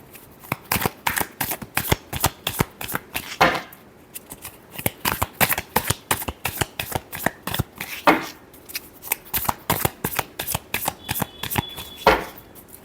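Tarot cards shuffled by hand, close and crisp, in a steady stream of quick riffling slaps and flicks with brief pauses between bursts and no talk.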